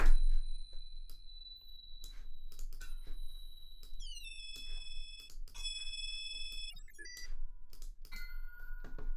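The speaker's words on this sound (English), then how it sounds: "here is a bell sound" Synthetic bell tones processed with spectral distortion in Max/MSP, ringing out as a series of bright, sustained chimes and clustered tonal strikes with shifting, warped overtones, played alone without talk.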